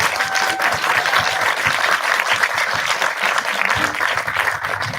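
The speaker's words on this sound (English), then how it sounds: "please welcome, with a round of applause, Tom Foolery" A crowd at a nature film festival award ceremony in Innsbruck applauds steadily to welcome a guest onstage, a dense, even wash of clapping that stays loud for the whole stretch.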